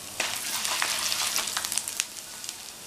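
Ginger frying in hot oil with golden lentils for a gooseberry pickle, a dense crackling sizzle with small pops throughout, close and continuous, no talk.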